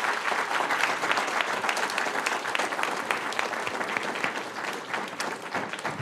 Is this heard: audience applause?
yes